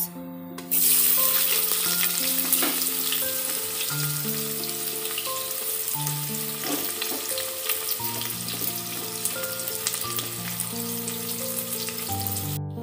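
Onions fry in hot oil with panch phoron, a steady close crackling sizzle that persists throughout beneath a melodic background tune.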